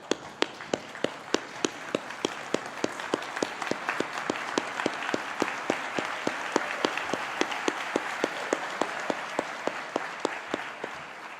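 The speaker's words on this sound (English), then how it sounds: "maybe a round of applause for the band" Convocation audience at Dalhousie University's Spring Convocation applauds the band: a sustained wash of many hands clapping, steady and even throughout at moderate distance, with no break in the crowd's applause.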